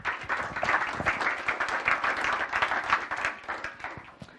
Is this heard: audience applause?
yes